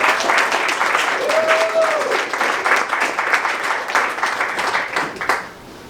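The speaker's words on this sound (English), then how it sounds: "How many people here, show by applause, you would have voted with Bernie, would have voted yes" An audience applauding in response to a show-of-hands question at a political event, sustained clapping from a crowd for about five seconds before cutting off.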